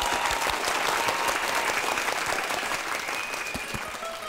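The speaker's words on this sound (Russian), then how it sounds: "аплодисменты сейчас прозвучат в вашу честь" Audience applause in a hall after a musician's introduction, a dense steady wash of many hands clapping that fades slightly toward the end, with no talk over it.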